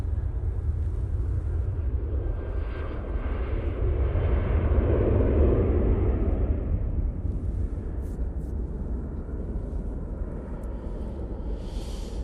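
Qatar Airways QR26, an airliner on its takeoff roll at Manchester Airport, makes a broad distant roar that swells to a peak midway and then slowly fades, heard without talk.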